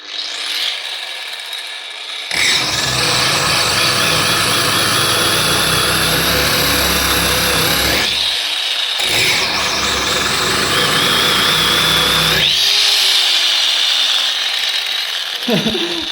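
A GTM AG125/1400VS angle grinder runs loud and close, its whine rising and dropping as it is pressed into the work under load, with harsh grinding noise and brief pauses between passes.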